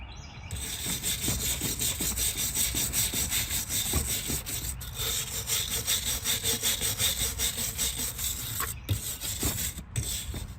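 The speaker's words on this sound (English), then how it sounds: "it is time to go ahead and clean them the rest of the way with the wire brush" Wire brush scrubbing sprayed Mazda 3 brake parts, steady rhythmic back-and-forth scraping strokes, loud and close, continuing with brief pauses and no talking.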